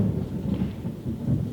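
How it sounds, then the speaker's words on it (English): Thunder rumbles low and steady through a rainstorm, a continuous deep roll with the hiss of rain, no voices. "I apologize for the thunder too."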